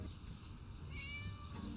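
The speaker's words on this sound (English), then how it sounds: "Shut up, you silly cat." A cat in the video game Scary Teacher 3D gives a single soft, drawn-out meow over quiet low background hum.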